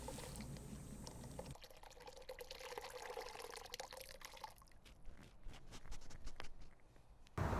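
Glue broth made from boiled tendons is poured through cheesecloth, a faint, steady trickle of liquid running for several seconds with small drips and splashes near the end, with no talking.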